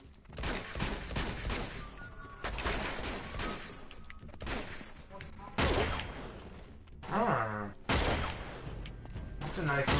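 Gunfire in the video game Uncharted: The Nathan Drake Collection, with bursts of shots from an MP40 submachine gun and other weapons repeating through the clip, loud and close, mixed with game sounds and occasional speech.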